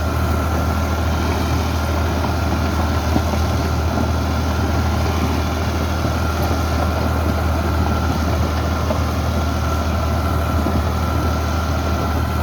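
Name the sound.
New Holland Al-Ghazi 2012 tractor engine running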